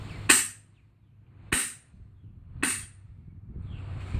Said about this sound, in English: So you're still getting that loud pop out of the barrel.